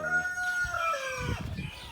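An Indian breed rooster crows once, a long rising then falling call close by, followed by softer clucking and rustling in the background.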